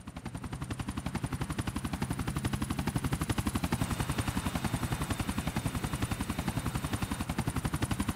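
Helicopter in Grand Theft Auto IV, its rotor chopping in a fast, steady rhythm that stays loud and close throughout, with no voices over it.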